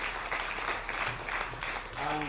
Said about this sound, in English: So I think the family deserves a very big round of applause from everybody.